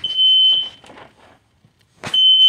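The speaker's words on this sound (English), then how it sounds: "the smoke alarm just went off in the garage" Garage smoke alarm shrieks with a piercing, steady high-pitched tone in two loud bursts, the first about half a second long, then a pause of muffled thumps and rustles before it sounds again.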